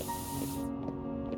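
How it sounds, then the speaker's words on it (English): An aerosol spray can sends rust-colored paint onto a cauldron with a steady, close hiss, ending abruptly partway through as the nozzle is released, followed by faint short puffs. "touch a spray paint, put some rust on the cauldron."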